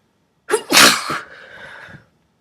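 A single loud, close sneeze from a person reading a story aloud, a sharp inhaled build-up bursting into a forceful explosive burst that trails off into a brief breathy tail, with no talk around it.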